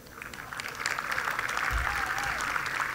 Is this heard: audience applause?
yes